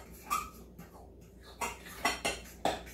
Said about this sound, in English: And then I like to just take my fork and mix.